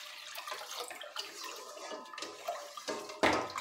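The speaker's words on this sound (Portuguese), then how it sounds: "O primeiro litro de água fria, vou acrescentar aqui e vou misturar." Cold water is poured into a basin to mix homemade laundry soap, a soft continuous splashing and trickling with a louder gush near the end, fairly faint and close.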